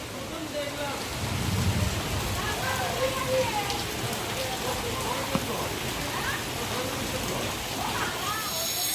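Steady heavy rain pattering on surfaces with a low rumble of thunder near the start, continuous and moderately loud, with some talking underneath.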